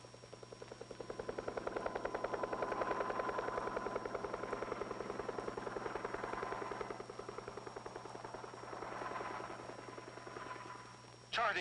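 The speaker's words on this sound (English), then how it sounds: "Air Force helicopters survey and monitor the acres of blast area with" Air Force helicopters' rotors thump steadily in a rapid chopping rhythm over a Nevada atomic test site, swelling and fading slightly as they pass, moderately loud and somewhat distant.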